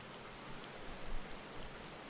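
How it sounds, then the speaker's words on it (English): Steady downpour of rain in the video game Final Fantasy XIV Shadowbringers, a dense, even hiss filling the whole span at moderate volume, with no talk. "Lady, it's pouring rain out."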